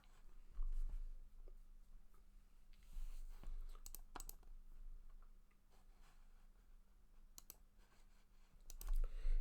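Faint, sparse mouse clicks tick over a low hum and quiet room noise, spaced irregularly.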